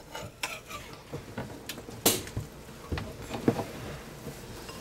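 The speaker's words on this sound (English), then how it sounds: "we're going to make room here and throw some of our pork over to the side" Pieces of pork scraped and pushed around a hot cooking pan with a utensil, clinking metal and light sizzling in uneven bursts, close by with no talking.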